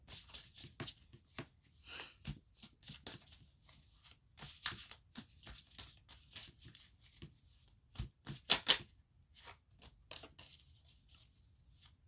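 Tarot cards shuffled by hand during a new moon reading, close crisp riffles and slaps in quick irregular bursts with brief pauses and no voices.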